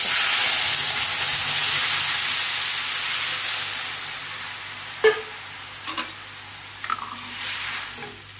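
Mustard seeds and cumin sizzle loudly in hot oil, the hiss gradually fading, followed by a few light clinks of a spoon stirring the pan.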